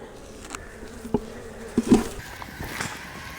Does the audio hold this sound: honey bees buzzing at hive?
yes